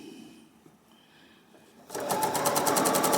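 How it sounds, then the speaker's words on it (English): A sewing machine stitching quilt pieces together for a yellow quilt, starting after a quiet pause and then running steadily and close with a fast, even whir to the end. "I'm going to sew them together."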